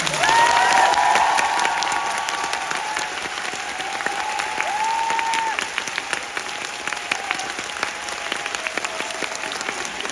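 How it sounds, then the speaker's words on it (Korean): Sustained applause from a large theatre audience at the final-performance curtain call of the musical Next to Normal, dense and steady clapping that begins loud and eases slightly, with faint cheers mixed in. "손이 비신 분들은 그분들을 위해서 뜨거운 박수"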